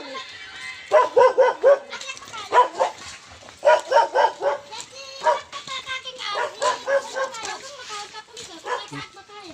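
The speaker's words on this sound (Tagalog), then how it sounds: "Kasi nakita ang aso." Dogs bark in repeated bursts of yips and bow-wows on a hillside in Binangonan, Rizal, loud and close, with short pauses between volleys and people talking nearby.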